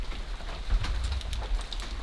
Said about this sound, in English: It is raining, like a lot. Oh, and now it's hailing.